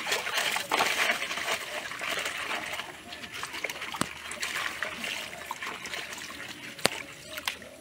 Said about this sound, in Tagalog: kailangan mo itong hugasan ng maayos tulad dito